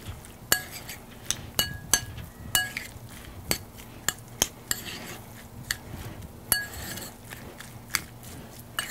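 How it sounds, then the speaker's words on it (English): Guacamole being stirred and mashed in a bowl, with a steady run of sharp utensil clinks and taps against the dish, fairly close and alone without talk. "next thing to do is just to mix it all together."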